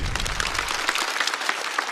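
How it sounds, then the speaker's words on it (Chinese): Audience clapping at a stand-up comedy show, a dense burst of applause that carries on for a couple of seconds. "再次掌声送给李文。"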